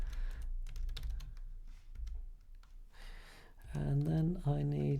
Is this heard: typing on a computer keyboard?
yes